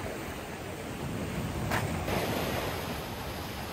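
Sea waves wash onto the shore at dawn in Santa Maria, Ilocos Sur, a steady, soft surf rush with faint wind, no voices, fairly quiet and continuous.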